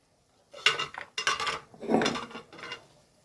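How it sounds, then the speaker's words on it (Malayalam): Thick ground paste scraped and dropped into a metal pressure cooker, with a few clinks and scrapes of a utensil against the rim, close by. "അരപ്പാണ് ഇട്ട് കൊടുക്കുന്നത്"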